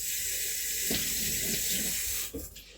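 Peeled potatoes rinsed under a kitchen tap before chopping for mash: a steady hissing stream of water with a few soft knocks, cutting off near the end.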